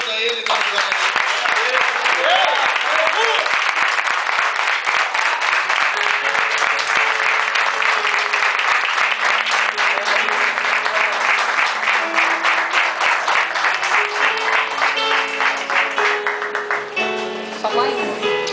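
A church congregation applauds in a long, dense burst of clapping that stays loud and steady, with music playing beneath it and tapering slightly near the end.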